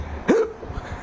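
A joke teller imitates a nun's hiccup with one sharp vocal hiccup, close and loud, during a comic story. No other talk is heard around it.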